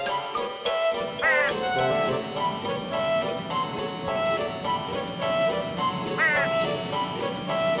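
A crow caws in a few harsh, repeated calls, loud and close, over a background of music and other layered sounds.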